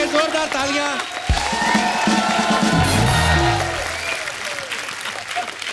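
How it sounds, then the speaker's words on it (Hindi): Studio audience of a comedy talk show bursting into loud, sustained applause with cheering, filling the room throughout, with a voice speaking briefly over it. "जोरदार तालियां"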